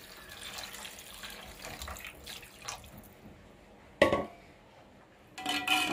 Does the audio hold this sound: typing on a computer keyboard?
no